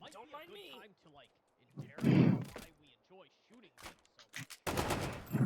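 FN SCAR assault rifle gunfire in the VR game H3VR comes as a few loud shots and a short burst, broken up by someone talking between them.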